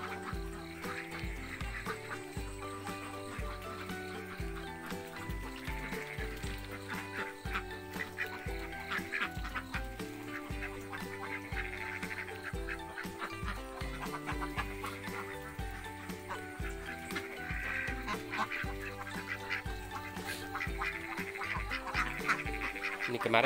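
Molting ducks in a wet, partly unroofed pen after a night of heavy rain keep up a steady stream of quacking and fowl calls, dense and overlapping at a moderate distance, with no talk over them.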